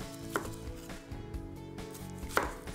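A knife chops a small red onion into little squares on a board, with a handful of quiet, irregular taps close by and no talking.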